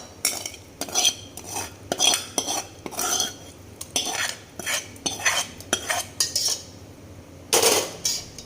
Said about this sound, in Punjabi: ਆਪਾਂ ਹੁਣ ਜਿਹੜਾ ਇਹ ਤੜਕਾ ਲਾਇਆ ਇਹ ਵੀ ਵਿੱਚ ਪਾ ਦਿੰਨੇ ਆ